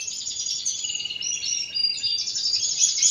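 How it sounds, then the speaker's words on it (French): Birds in a breeding room chirp and tweet continuously, dense overlapping high-pitched calls at moderate volume with no talk. "Donc vous entendez les oiseaux, les amis,"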